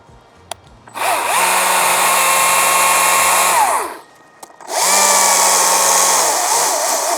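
A STIHL MSA 190 T battery top-handle chainsaw cuts through wood in a tree in two loud sustained bursts, its whine holding steady under load and winding down between cuts.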